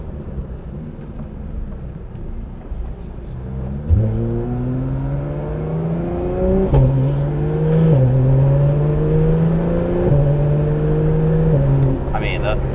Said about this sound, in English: I'll roll down the windows here a little bit so you can kind of hear that exhaust.